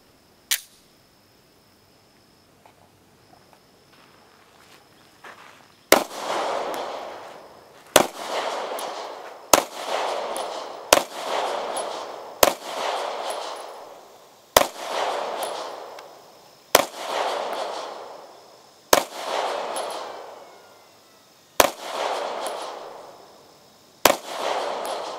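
Pistol shots from a Taurus PT111 G2 and a Star BM at a range, about a dozen loud, sharp cracks spaced a second or two apart, each followed by a short echoing tail, with a few faint clicks beforehand.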